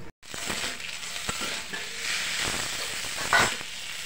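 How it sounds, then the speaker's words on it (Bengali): Noodles cook in a pan in a village kitchen, a continuous close sizzle and hiss with scattered stirring clicks and scrapes, louder for a moment near the end, with no voices. "তো ভাবলাম নুডলস রান্না করি"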